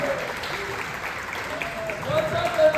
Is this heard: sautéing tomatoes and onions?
no